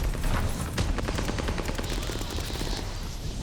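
Armaguerra 43 submachine gun fire in Call of Duty: Vanguard, a rapid continuous automatic burst of dense, loud shots close up with no pause across the few seconds.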